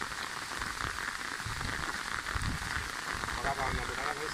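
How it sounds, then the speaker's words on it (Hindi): Heavy rain falls steadily in an outdoor setting, a dense continuous hiss and patter at moderate, even loudness with faint voices mixed in beneath. "बढ़िया बारिश पड़ रही है भाई"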